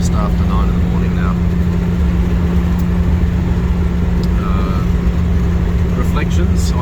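A Morris 1100S car drives along the road, its engine droning loud and steady with a constant low hum and road roar throughout, heard from inside the cabin.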